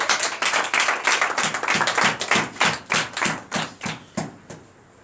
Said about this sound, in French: Donne l'acclamation au Seigneur Jésus